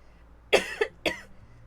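Two short, sharp coughs in quick succession from a video game character, close and clear against a quiet background.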